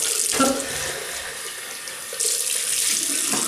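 Tap water runs steadily into a sink as someone rinses off after a wet shave. The close, even splashing rush gets slightly louder partway through.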